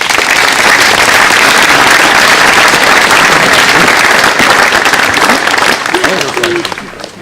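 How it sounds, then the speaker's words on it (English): Loud, sustained applause from a commencement crowd at a military academy, many hands clapping densely and evenly for several seconds before tapering off as a voice returns. "I'd like to give the speakers one more round of applause"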